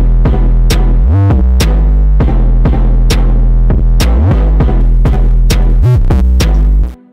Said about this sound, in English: we're going to add some color to it. By color we mean distortion, harmonic distortion.